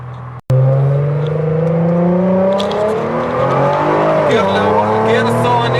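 A 2009 Nissan GT-R R35 with full bolt-ons accelerates hard on a test drive, its engine note climbing loud and close. A gear shift near the end briefly drops the pitch before it rises again.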